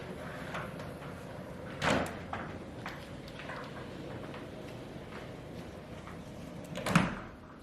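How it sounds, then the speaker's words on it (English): A partial sliding door in a Punta Cana junior swim-up hotel suite rolls and bumps twice, with short rumbling glides and thuds separated by quiet room tone. "one of the cool things that this room has is a sliding door"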